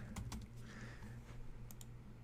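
Faint keystrokes on a computer keyboard while a student's name is typed, a few light taps in quick succession over a steady background hum.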